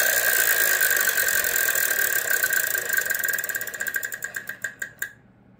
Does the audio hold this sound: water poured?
no